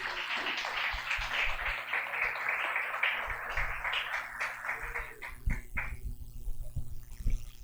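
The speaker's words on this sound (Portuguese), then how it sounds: "Vamos a recibir al Pastor Orlando aplaudiendo al Señor por su vida." A church congregation claps to welcome Pastor Orlando to the pulpit during a Sunday service. The applause is a dense, steady wash of many hands for about five seconds, then thins into scattered claps and room noise.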